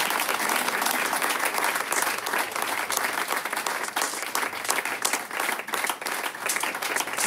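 Steady, dense applause from a crowd, with many hands clapping continuously at a loud, even level throughout and no pauses.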